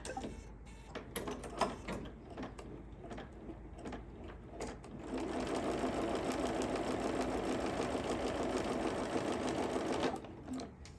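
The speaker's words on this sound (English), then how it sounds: "work is going back on the machine, and we're going to stitch the left binding" A sewing machine stitches binding onto a quilted hot pad, first in short stop-start bursts, then in a steady, fast, close run of rapid needle clatter that stops near the end.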